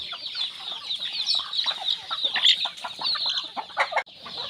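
A flock of chickens clucks and squawks busily during morning feeding, with dense, overlapping calls at close range that continue without a break and no talk over them.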